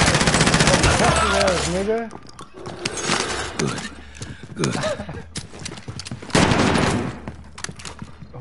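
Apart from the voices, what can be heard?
gunfire in a PS4 shooter video game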